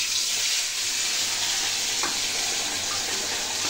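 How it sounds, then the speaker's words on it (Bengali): Fish dropped into very hot oil in a kadai gives a dense, loud, continuous hiss of frying that holds steady throughout with no talk. "এই যে মাছ দিয়ে দিচ্ছি।"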